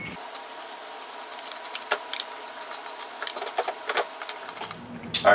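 A spoon scrapes seeds and stringy strands out of halved spaghetti squash in quick, uneven scratches and taps. The scraping is close and fairly faint, with a louder clatter at the end.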